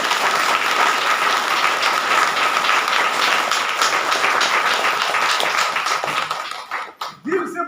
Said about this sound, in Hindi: हम लोग तहे दिल से एक बार जोरदार ताली बजाएंगे।